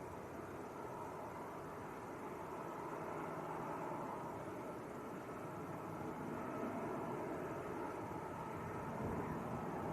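An Aer Lingus Airbus A320 taxiing out at Manchester Airport, heard as a steady, distant broadband jet rumble and hiss that holds at an even, low level throughout with no voices.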